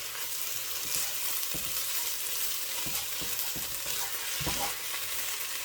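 A wet stir-fry is mixed in a hot pan: a steady, moderate sizzle runs throughout, broken by several dull scraping thuds as the spatula turns the food.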